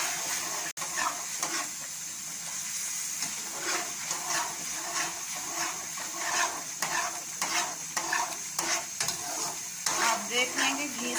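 Petha halwa sizzles in ghee in a pan while being stirred, with irregular scraping strokes and a constant frying crackle close by.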